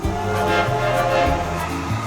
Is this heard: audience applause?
no